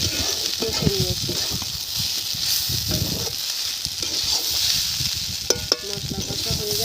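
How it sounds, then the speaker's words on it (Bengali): Spices sizzle as they are fried down in a pan for a light vegetarian fig dish, a continuous close crackle broken by stirring strokes and sharp pops, with a faint voice briefly in the background. "মশলা খুব সুন্দর করে কষে নিয়েছি"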